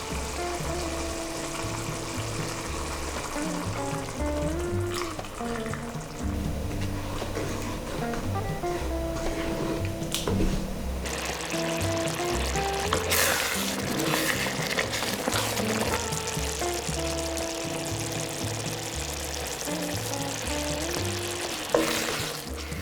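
Milk goes into a sizzling Bolognese ragù in a pan, giving a long, steady frying hiss with occasional stirring scrapes, while music plays softly underneath.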